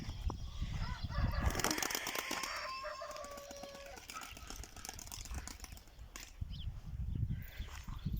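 Bursts of wing flapping from pigeons taking off, mixed with scattered clucks and a brief crow in the background of an outdoor yard.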